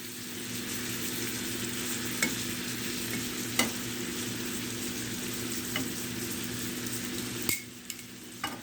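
Blackened shrimp frying in butter and oil, a dense steady sizzle with a few light utensil taps and a brief clatter near the end, close and continuous with no talking.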